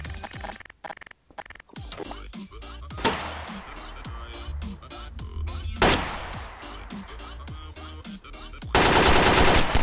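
Gunfire in Garry's Mod sandbox play: rapid bursts of shots and clatter recurring through the stretch, with a loud sustained blast of noise near the end.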